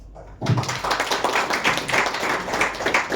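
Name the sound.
applause for team owners at cricket league auction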